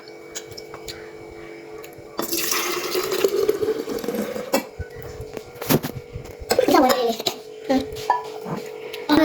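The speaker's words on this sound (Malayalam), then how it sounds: "ആദ്യം പാൽ ഒഴിക്കാം" Milk is poured in a steady stream that rises in pitch as the glass fills, followed by a second shorter pour, with clinks between.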